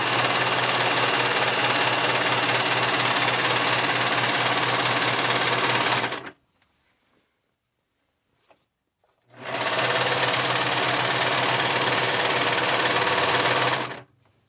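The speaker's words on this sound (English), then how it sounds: "We're going to serge all four sides." A serger sewing machine edges fabric with a loud, fast, steady mechanical buzz, running for about six seconds, pausing in near silence, then starting up again for a second long burst.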